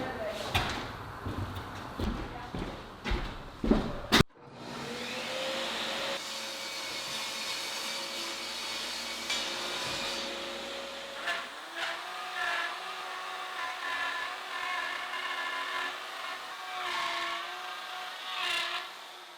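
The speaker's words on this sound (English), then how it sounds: "we're going to try out the router and see how that works" A router cuts a channel in plywood for radiant heat sleepers, giving a loud, sustained high-pitched whine that starts after some knocking and handling noises and then runs steadily with slight changes in load.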